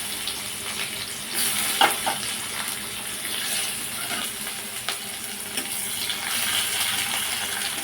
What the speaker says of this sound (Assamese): অকণমান পিঁয়াজখিনি ফ্ৰাই কৰি ল'ম।